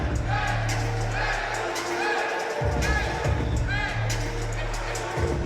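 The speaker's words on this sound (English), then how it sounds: "the crowd have really enjoyed that one as they're dancing and singing for Kadua" A boxing crowd at York Hall sings and dances after a round, producing dense, steady chanting and cheering with rhythmic whoops. A commentator talks over the continuous hubbub.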